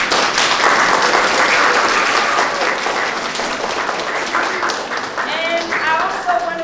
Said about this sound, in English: let's give a round of applause to the 2 teachers that are here today.